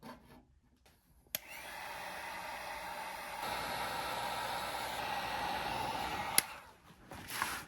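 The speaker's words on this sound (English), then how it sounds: "what's great about these is all you need is a heat gun" A heat gun blows a steady, fairly loud rushing hiss for several seconds while shrinking blue 16–14 gauge heat-shrink solder connectors. It starts abruptly after a sharp click and cuts off with another click near the end.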